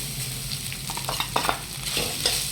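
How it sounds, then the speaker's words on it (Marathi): Dry fruits roasting in ghee in a pan for modak filling, giving a soft steady sizzle with scattered light scraping stir taps, close and moderate, with no voices. "हे ड्रायफ्रूट्स हे पण आपल्याला तुपात भाजून घ्यायचे आहे"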